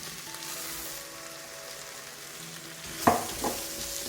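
Rice and browned chorizo stirred in a Cookeo multicooker pot, a soft steady sizzle with a couple of sharp scraping knocks of the spoon near the end, no talking.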